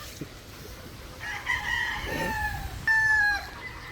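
Chickens on a farm, with a rooster crowing in two drawn-out calls amid softer clucking, moderately close against a quiet background.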